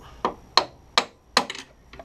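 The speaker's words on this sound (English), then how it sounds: "we'll just use a flathead and a hammer to tap it into place." A hammer taps a flathead screwdriver onto a clutch clip with a handful of light, sharp taps at uneven intervals, close by and fairly quiet.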